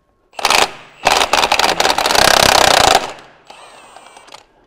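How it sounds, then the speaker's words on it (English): A big impact wrench hammers at a 1¼ inch driveshaft nut in loud, close rattling bursts: a short burst, a pause, then a longer sustained hammering before it spins down to a lighter whirr. "You will probably want a big impact to break this loose."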